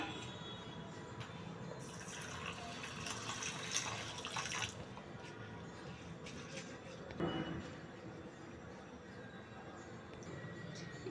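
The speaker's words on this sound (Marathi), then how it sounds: "आता ह्या तांदूळ आपण स्वच्छ पाण्याने धुवून घेऊयात।" Biryani rice being rinsed in clean water in a kitchen: quiet swishing and splashing of water, with a louder burst of sloshing early on and a brief splash later, faint overall.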